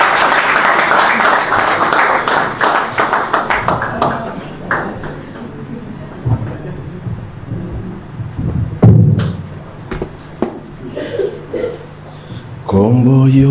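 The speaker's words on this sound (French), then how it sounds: "Est-ce qu'on peut acclamer pour la gloire de Dieu?" A church congregation applauds and cheers for a preacher, a loud burst of clapping and voices that thins out after a few seconds into scattered claps, thuds and murmuring talk.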